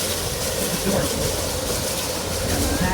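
The redwood mountain tourist train at Roaring Camp rolls along with a continuous rumble and faint wheel clatter. The sound stays steady and close throughout.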